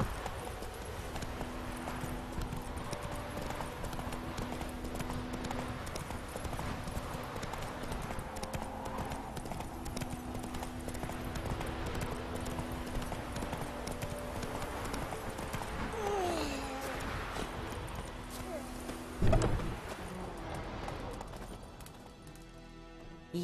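Hooves of Roach, a horse in The Witcher 3, clop steadily at a quiet level beneath in-game music and ambience, with a sharp crash near the end.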